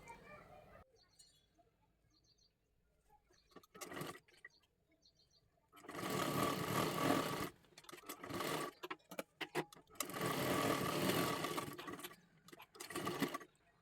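A sewing machine runs a double seam on a lehenga made from a bordered saree, in two sustained bursts of rapid stitching with quiet handling and soft talk between them.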